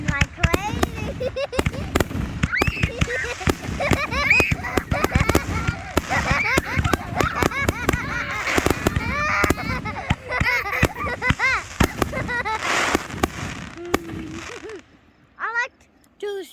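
Fireworks display at a farm, shot off by a pyrotechnics crew: a dense barrage of loud, rapid bursts and crackles over about fifteen seconds, then a few last pops, with excited people talking throughout.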